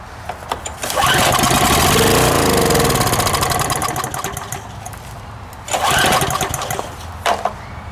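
A Harbor Freight machine with a Briggs 6.5 INTEK engine, leaking gas after sitting ten years, cranks and catches, running roughly for a few seconds, sputters down, then fires again briefly, loud and close.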